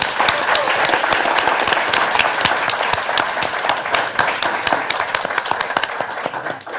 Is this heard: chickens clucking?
no